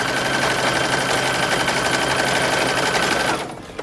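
A sewing machine runs at a fast, even stitching rate on a 1940s-style bathing suit, a loud close buzz that holds steady for several seconds before slowing and stopping.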